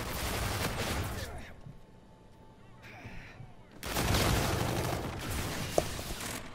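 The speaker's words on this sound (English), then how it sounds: "If you hold down Y, you can shoot it like this." Rapid gunfire from a weapon in Call of Duty: Infinite Warfare, loud bursts of automatic shots at the start, a short lull with quieter mechanical clicks, then another sustained, dense volley through the end.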